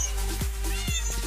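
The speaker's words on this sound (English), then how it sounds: "Come on, kitty." A cat meows in the Minecraft video game: two or three short, close, distinct mews in quick succession.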